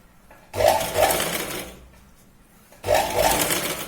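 Two bursts of a sewing machine running straight stitches through Punjabi dress fabric, each lasting a couple of seconds with a short pause between, close and fairly loud.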